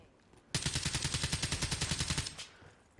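Rapid automatic gunfire from a PS4 shooter video game rattles out in one loud, sustained burst of evenly spaced shots lasting nearly two seconds, then cuts off abruptly and leaves a quiet background.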